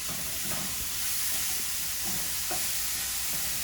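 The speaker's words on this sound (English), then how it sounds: "I'm also going to throw some spinach in here. I use my stir stick." Spinach is stirred with a stir stick in a frying pan alongside mushrooms and taco seasoning. A broad, steady sizzle carries soft scraping strokes, close and continuous, with no talking.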